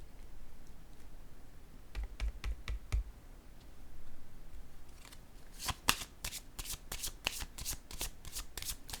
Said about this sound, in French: je vais déposer une carte sur la zone de conflit